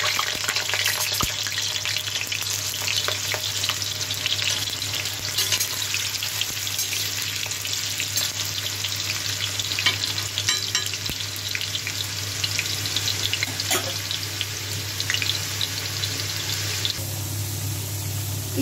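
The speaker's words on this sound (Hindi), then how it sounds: "तो मैं डालूँगी आलू। फ्राई कर लीजिएगा हल्का सा" Potatoes fry in hot oil as a dense, continuous sizzle, close and steady, with occasional faint clicks and knocks from the pan.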